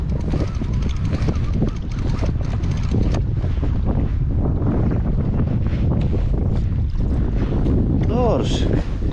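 Loud, steady wind buffets the microphone over waves and water washing around a kayak at sea in minus seven degree cold during cod fishing, with a brief whistling tone near the end.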